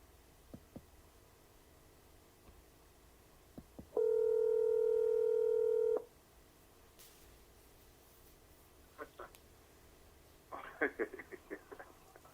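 Steady telephone dial tone holds for about two seconds on a call back, with faint low background talk and a few quiet clicks and bumps before and after.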